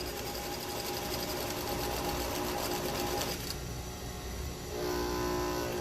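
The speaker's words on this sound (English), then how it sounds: "I'm going to sew this top part at about 1/2 inch." A sewing machine hums in a steady, close, continuous run while stitching the top seam of a fabric face mask, pausing briefly near the end before starting again.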